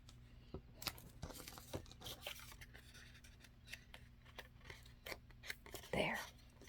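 Scissors trim paper card for a gothic Poe-themed craft card: quiet, close snips and rustling paper in a series of short, irregular cuts, with soft talk in the background.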